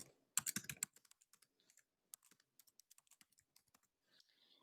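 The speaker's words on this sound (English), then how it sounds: "I'm going to start typing in heading" Typing on a computer keyboard, a quick cluster of close, crisp keystrokes followed by scattered single taps and a short final burst, with no voices.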